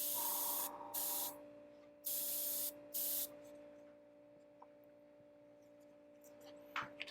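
Airbrush spraying paint onto a miniature, with several short hissing bursts of air in the first half followed by quiet handling noises and a small click near the end.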